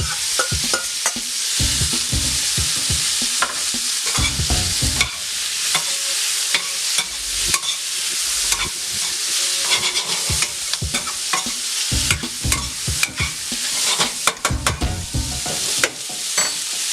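Pre-boiled butternut squash hits a hot pan and fries with a continuous loud sizzle, while repeated stirring and tossing make clattering scrapes and knocks throughout.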